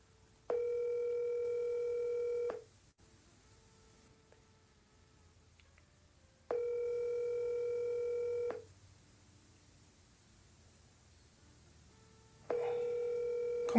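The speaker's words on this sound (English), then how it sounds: "Come on, Nate, pick up your phone." Ringback tone on an outgoing phone call sounds three times, each steady electronic burst about two seconds long, separated by roughly four-second gaps of quiet, clear and close with no talk.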